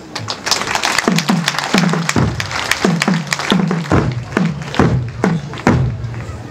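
A church crowd in a parish gathering claps after a speech by the provincial governor, loud uneven applause with sharp irregular claps that pulse across the whole stretch.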